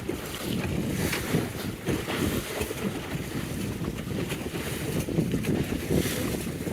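A John Welsford Navigator sailboat moving at about four knots on calm water without whitecaps, with steady wind rush across the microphone and continuous water noise along the hull throughout.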